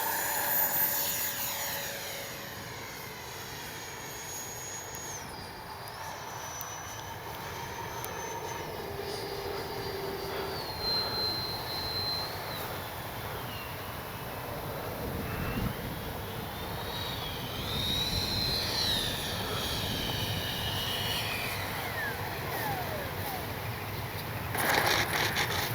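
A Freewing L-15 RC jet whines from a distance through its takeoff, a thin high turbine-like tone that shifts in pitch as it moves, over steady outdoor wind noise.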